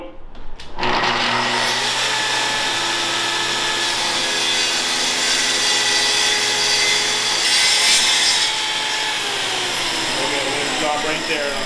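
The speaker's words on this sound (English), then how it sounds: "The one thing I always teach people when they're using a track saw is let the machine cut." Festool track saw with a parallel guide ripping through wood, a loud sustained whine that starts abruptly and holds steady for the full length of the cut, with a slight surge near the end.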